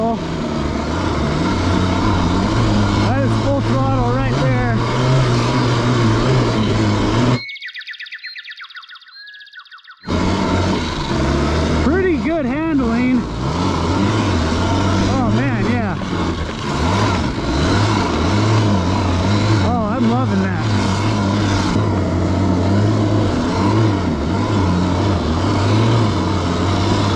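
Electric Ruffian Send-E snow bike run at full throttle on snow, a loud steady motor drone with harmonic whine that cuts out briefly, then resumes strongly alongside talk.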